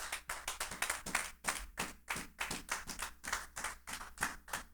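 A church congregation claps in a steady, rhythmic beat, many hands striking together in repeated bursts at a lively tempo, fairly close and filling the room with no voices over it.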